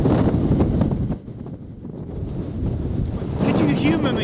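Strong wind buffeting the microphone on Snaefell mountain on the Isle of Man, a loud continuous rumbling roar that dips briefly and then surges again.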